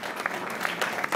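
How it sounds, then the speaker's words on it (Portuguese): Applause from the audience at a church's 20th anniversary gala in a decorated hall, a short burst of steady clapping from a crowd indoors. "uma grande salva de palmas para a Maggie"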